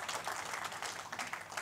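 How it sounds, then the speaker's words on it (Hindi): An audience applauds at a mushaira and kavi sammelan poetry recital in Delhi, a steady, dense wash of clapping that continues without a break and with no voices over it. "एक बार ज़ोरदार तालियां आप बजा दें तो अच्छा लगेगा"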